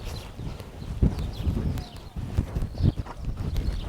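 Horse hooves thud on the footing of a riding arena during a riding lesson, with a steady rhythm of close, muffled hoofbeats and no voices.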